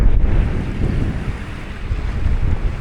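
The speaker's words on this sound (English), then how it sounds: "Look at this, it's a bit windy." Strong wind and choppy sea waves wash and roar at a harbour, with steady buffeting wind noise on the microphone throughout and no voices.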